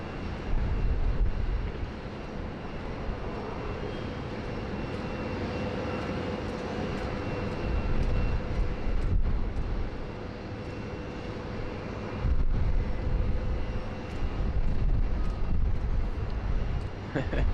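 An aircraft engine drones at Sydney Airport in afternoon light, a broad steady roar with gusts of wind across the microphone, rising and falling slightly throughout.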